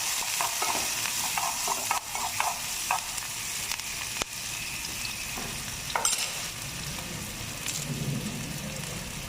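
Finely chopped onion hitting a pan of popping mustard seeds in hot oil, cooked for vegetable chukka: continuous close sizzling and crackling like heavy rain, with scattered sharp pops and occasional stirring scrapes, no voices.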